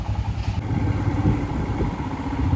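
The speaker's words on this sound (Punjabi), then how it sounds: "ਮੋਟਰਸਾਈਕਲ ਸਟਾਰਟ ਹੈ ਤੇ ਅਸੀਂ ਬੈਠੇ ਆਂ" A motorcycle engine idles close by with a steady low rumble and faint mechanical clatter, no voices.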